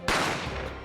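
A single sharp gunshot in The Great Ace Attorney, a sudden loud crack that hits at once and then rings out in a short decaying tail, with no talking over it.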